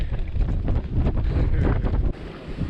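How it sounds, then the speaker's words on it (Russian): Strong storm wind buffeting a boat sailing on a river, a loud continuous roaring gust with choppy water noise underneath, easing briefly near the end. "Такой шторм даже интересней."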